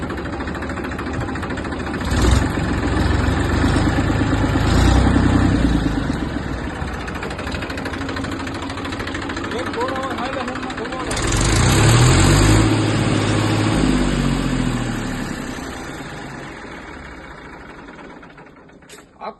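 An original tractor with 5800 hours and factory engine fittings idling with a steady low chug, swelling in a couple of louder surges before fading slightly toward the end.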